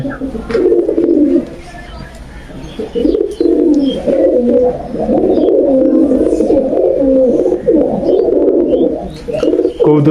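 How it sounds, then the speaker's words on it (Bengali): Giribaz pigeons released on a rooftop coo loudly and close, their rolling, throaty calls overlapping in long bursts with short pauses between. "কবুতর গুলো বাইরে ছাদে ছাড়লাম"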